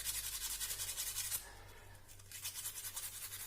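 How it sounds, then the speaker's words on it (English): Sandpaper rubs back and forth over a magnesium ribbon in quick rhythmic strokes, soft and close, pausing briefly midway before the scraping resumes; no voices. "before using the magnesium ribbon, we have to clean it with the sandpaper"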